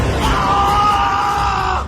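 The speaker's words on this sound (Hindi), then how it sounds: "आखिरकार गुस्से में झल्लाकर चीखा" A man screams in anger, a single loud, sustained yell lasting nearly two seconds, steady in pitch and then cutting off abruptly.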